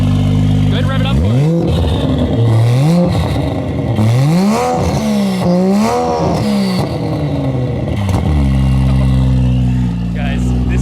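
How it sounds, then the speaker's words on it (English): A 950-horsepower A90 Toyota Supra engine revs hard through several rising and falling sweeps, loud and close, settling back to a steady idle between blips while people talk faintly around it. "Go ahead and rev it up for"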